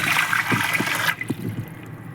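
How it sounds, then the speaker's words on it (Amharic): Water poured into a bowl to make fatira batter, a bright, close, steady stream for about a second, then stopping with a few soft drips and knocks. "ውሃ እናስገባለን ማለት ነው።"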